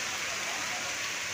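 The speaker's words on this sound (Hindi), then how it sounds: "बहुत ही ज़बरदस्त बारिश हो रहा है" Heavy first monsoon rain in Mandla pours in a dense, even hiss, loud and unbroken, with no distinct drops or voices.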